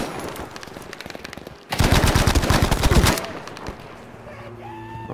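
Automatic gunfire in the shooter game Battlefield V, a loud sustained burst of rapid shots lasting over a second, set between quieter scattered game shots and battlefield noise.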